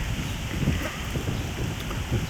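Wind blows outdoors in a vegetable garden, a steady, fairly loud blustery rumble with gusty swells throughout and no clear voices.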